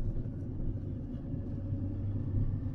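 Strong wind blown out by a passing thunderstorm on hot, dusty plains, heard as a steady low roaring rumble buffeting close by without a break.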